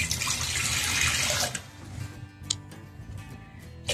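Water poured into a pressure cooker for cooking jackfruit, a loud rushing pour for about a second and a half, then quieter trickles and a few small knocks.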